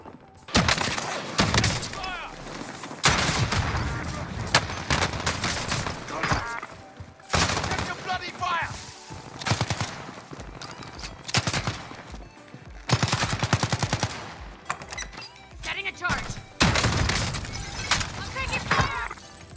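Repeated loud blasts from a 725 shotgun in Call of Duty Warzone come in clustered bursts across the stretch, with heavy game gunfire all around and voices talking at times.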